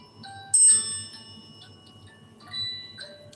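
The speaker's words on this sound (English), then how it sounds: "I'm going to shut the bell off here" A small bell rings with a bright sharp strike followed by a few lighter, fainter tinkling tones, close by over a quiet low background hum.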